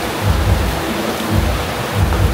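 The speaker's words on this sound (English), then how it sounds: "While I'm enjoying my food, it started pouring outside." Heavy rain pours outside in Georgetown, Malaysia, a dense, steady broadband wash with low rumbling swells.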